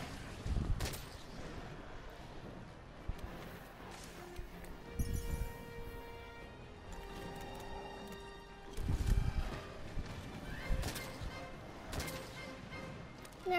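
A light bowgun in the video game Monster Hunter World fires against the Diablos. A few sharp, separated shots ring out over a quiet background of game tones and effects.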